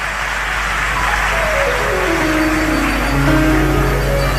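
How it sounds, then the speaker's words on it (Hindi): A large crowd at a Shiva Mahapuran religious discourse in Sehore claps loudly and steadily in sustained welcoming applause, with no speech over it. "जोरदार ताली बजाकर स्वागत करिए।"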